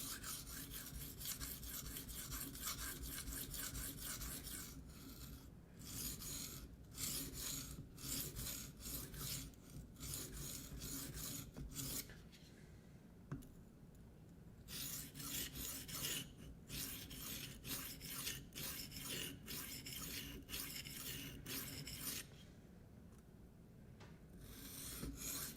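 Spyderco Endura knife freehand sharpened on a whetstone: steady rhythmic rasping strokes, close and alone, in repeated bursts with brief pauses between sets.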